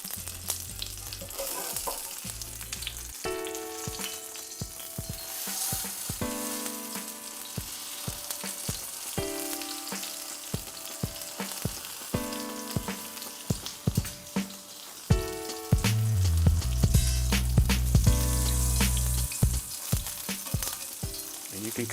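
Sesame-crusted tuna sears in oil in a pan with a continuous bright sizzle and crackle, broken by clinks and stirring knocks. The frying swells louder and denser near the end.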